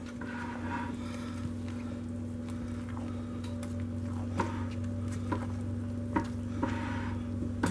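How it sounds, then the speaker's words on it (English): Hot process soap is stirred in a crock pot, a thick wet scraping and slopping sound with soft bubbling, steady and close against a constant low electrical hum. "I always like to go from the bottom up, so stir from the bottom to the top"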